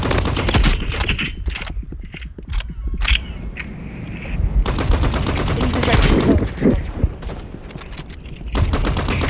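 Automatic gunfire in a shooter video game, rapid bursts of loud shots mixed with single cracks and mechanical clicks.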